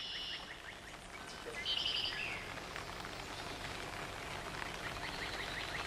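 Steady rain falls in the cloister of a Benedictine monastery in Catalonia, a continuous soft hiss with scattered drips, and faint bird chirps rise briefly through it.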